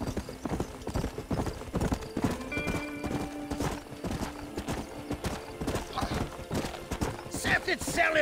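Horse hooves clip-clop in a steady rhythm with an occasional whinny from a horse in the Red Dead Redemption video game, mixed under game music and voices talking.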